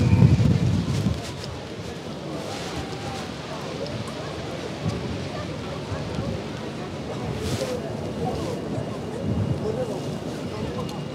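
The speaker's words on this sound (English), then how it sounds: "It's becoming very windy." Strong outdoor wind at Speaker's Corner in Stratford, a loud, constant low rumble buffeting the microphone with gusty swells, while muffled voices carry on underneath.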